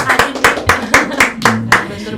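A group claps for a guest, the head of South Sumatra's cooperatives and small business office, at a campus talk session. The claps land close and loud in a fairly even rhythm, about four per second, with no talk over them.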